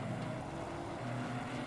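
Race car engines of an Aston Martin and a Ginetta drone steadily in onboard view in a Nürburgring sim racing game, a fairly quiet continuous hum that shifts pitch about midway.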